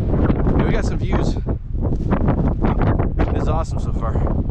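Strong gusts batter the microphone in loud, rumbling buffets, nearly burying a person talking underneath, at Red Butte in Kaibab National Forest.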